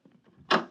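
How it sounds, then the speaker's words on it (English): A door shuts in a science-fiction radio drama sound effect: faint low murmuring gives way to a loud, close wooden thud, followed moments later by a second sharp bang. "Close the door on your way out."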